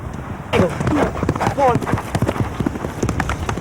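Horse hooves clip-clop in a quick, steady rhythm on a hilly forest trail during an endurance ride, with someone talking over the hoofbeats in a 1980s television news report.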